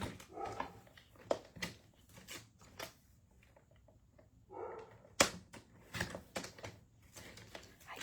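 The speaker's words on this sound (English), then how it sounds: "I don't know what Fiona's barking at." Fiona, a dog, barks faintly from a distance in a series of short, irregular bursts separated by quiet gaps.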